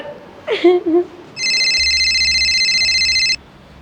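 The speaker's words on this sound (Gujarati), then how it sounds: "લે તાર બેબીનો ફોન આવે લે." A phone rings in a Gujarati comedy skit: one continuous electronic ringtone burst lasting about two seconds, loud and close, right after a brief spoken exclamation.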